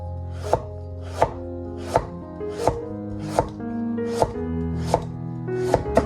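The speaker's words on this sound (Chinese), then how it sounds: "再切一根胡萝卜，清洗干净，" A knife slices a washed carrot into thin pieces on a board, making about ten crisp, evenly spaced chops close up against a low steady hum.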